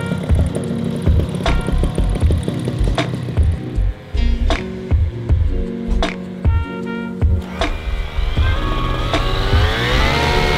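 A small pull-start engine runs steadily and very smoothly up close, almost like an electric motor, with a constant mechanical drone and a few brief surges in pitch.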